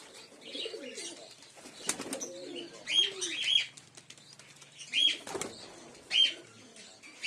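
Giribaz and Madrasi pigeons in a loft at evening feeding give soft coos and chirps, with bursts of wing flapping rising and falling close by, and no one speaking.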